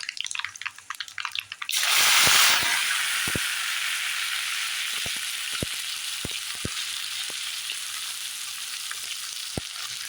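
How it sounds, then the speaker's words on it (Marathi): Sesame seeds drop into hot oil for a tempering while cooking a traditional Dhundhurmas meal, setting off a sudden loud burst of sizzling that settles into a steady hiss with scattered sharp crackles and pops. "तीळ आपल्याला फोडणीत टाकायचे आहे."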